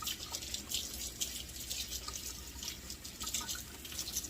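Rhubarb stalks rinsed under a running kitchen tap, a steady close hiss of flowing water with small splashes and drips throughout, no voices.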